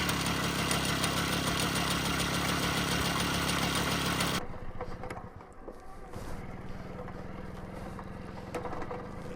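A restored 1978 Puch Newport moped engine runs outdoors, close and loud with a steady buzzing drone. About halfway through it drops to a quieter, rougher idle that keeps going to the end.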